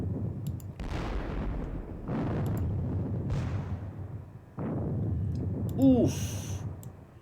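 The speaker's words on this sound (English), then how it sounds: "the artillery will open fire on their artillery." Artillery fire in a Gettysburg war video game, several deep rumbling booms rolling out one after another at moderate volume, with a faint electronic chirp near the end.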